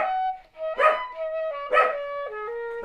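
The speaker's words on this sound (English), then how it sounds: "I gotta stop the barking dog" A corgi barks three times at a steady pace, close and loud, with long howling, whining tones held between the barks.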